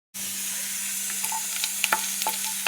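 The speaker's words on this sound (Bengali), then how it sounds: "নারকেল ভাজা হয়ে গেছে" Chopped coconut and green chili fry in a pan with a steady, close sizzle, while a few scraping stirs and clinks of a spatula break through now and then, with no talk.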